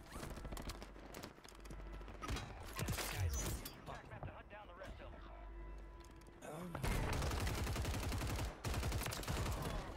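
Rapid bursts of gunfire in a Rebirth battle-royale shooter, crackling volleys and sustained automatic fire, loud and close, mixed with a player talking over the game.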